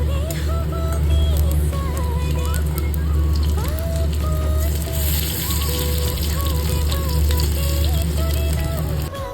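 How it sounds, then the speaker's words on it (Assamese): Pakoras made with onion and narasingha leaves, and hyacinth beans, frying in hot oil in a pan: a close, continuous sizzle with crackling, running steadily throughout. "এইফালে মই গৰম গৰম পকৰি বনাই আছোঁ ভাতৰ লগত খাবলৈ। আৰু আনফালে উৰহিও ভাজি আছোঁ।"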